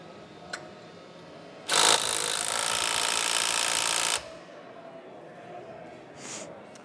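Milwaukee M18 FUEL controlled torque impact wrench tightening a pipeline joint gives one loud, close, rattling hammering burst of about two and a half seconds, then stops, with quiet background before and after.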